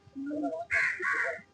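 Crows in a park give a few loud, harsh caws close by, two strong grating calls following some lower vocal sounds, with nothing else behind them.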